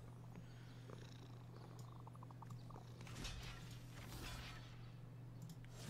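A cat purring in a video game, a soft low steady rumble under a faint electrical hum, with brief scuffling and clicking in the middle.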